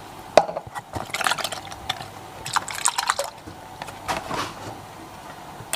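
Water is poured into a cooking pot for a Thai-style cassava dish with coconut milk, making soft close splashing and trickling with a few light clinks of the pot and utensils, irregular and moderately quiet.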